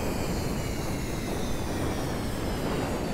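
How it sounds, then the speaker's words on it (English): Steady, loud roar of jet engines on a player-built jet coming in to land in Homebrew Vehicle Sandbox, a dense broadband rush that holds evenly throughout with no talking. "what I normally do is I'll come in, I'll cut engines early like that"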